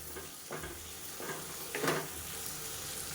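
Chopped beetroot and tomato sautéing in a pan give a soft, faint sizzle, with a few brief scraping stirs of a utensil near the start and middle.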